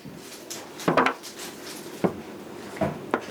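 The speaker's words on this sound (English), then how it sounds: "The mushroom heads go really nicely into your pan." Mushroom heads dropped one by one into a cooking pan, giving a few separate clattering knocks of pan and utensils at close range, with quiet gaps between them.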